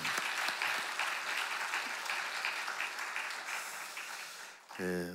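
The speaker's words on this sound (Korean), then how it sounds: "우리 박수로 격려하겠습니다" A church congregation applauds its choir at a Wednesday service, a dense steady wash of clapping that runs throughout and ends with a short burst of amplified sound.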